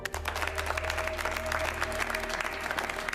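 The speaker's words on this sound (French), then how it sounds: "Cela mérite des applaudissements." Audience applause in a French broadcast of a Doctor Who ghost-hunting segment: dense, steady clapping from a crowd throughout, even in loudness, with no voices.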